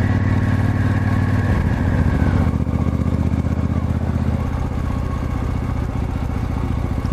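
A 1972 Moto Guzzi motorcycle engine drones steadily and close while riding Eastern Ontario gravel backroads, with a low, even throb and some clatter throughout.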